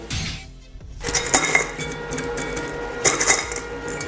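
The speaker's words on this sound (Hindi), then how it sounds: "तो भाई इसका ढक्कन लगाते हैं" A metal lid goes onto a small homemade electric arc furnace holding aluminium, giving bright metallic clinks and scrapes at close range after a brief quiet moment, with a couple of sharper taps near the end.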